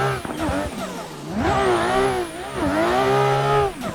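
A BMW E92 in the racing game Assetto Corsa downshifting, engine note dropping then rising sharply as revs climb in a loud, close whine, with a brief tire squeal.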